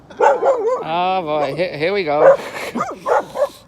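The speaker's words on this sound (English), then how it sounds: "Oh, here comes all the dogs." Several dogs bark, yip and whimper excitedly at close range, overlapping with people talking throughout.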